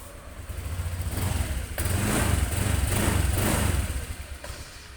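A Honda Supra X 125 motorcycle, kick-started and running smoothly with a slightly low idle, putters close by, its small engine swelling gently in revs and then easing back, with no talking.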